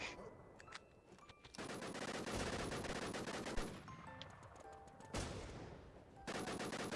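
Dense, rapid gunfire crackles almost nonstop in a Lego-themed shooter map, with volleys overlapping and brief lulls before bursts resume, loud and close throughout.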